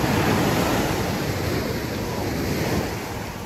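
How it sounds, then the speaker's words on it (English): Ocean surf breaking on a beach at Playa de Oro, Vallarta, heard as a loud, close, continuous roaring wash of waves with wind buffeting the microphone, easing slightly toward the end. "Water is very loud when you're down here."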